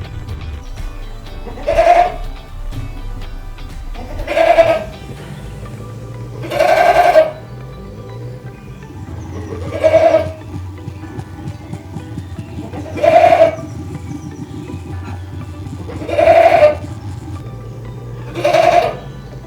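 Goats bleat repeatedly at fairly regular intervals, loud and close, during rail biking in Taumarunui, New Zealand, each call a short wavering cry with quiet rustling and low rumble between.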